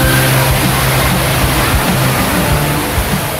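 Montel waterfall in the Muria mountains, a loud, steady broadband roar of falling water filling the scene without pause.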